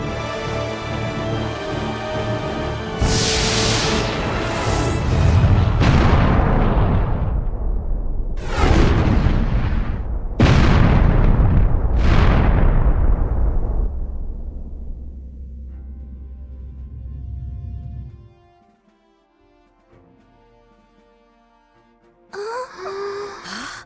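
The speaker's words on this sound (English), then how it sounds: "Incoming fire from the unknown vessel." Incoming weapon fire from an unknown vessel in the space game Star Ocean: The Last Hope, heard as a run of heavy booming impacts and blasts, each rumbling down into a long fading roar and then near silence.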